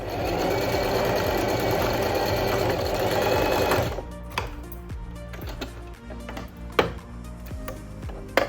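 A sewing machine runs steadily and loudly while stitching a gathered summer dress with puff sleeves, then stops, leaving close clicks and small handling knocks of fabric and machine parts.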